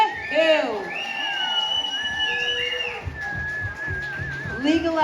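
A crowd at a CannaCrawl gathering cheers and whistles for Anthony and Reena, with shrill whistles, a rising 'woohoo'-type shout and a steady wash of applause and voices over five seconds.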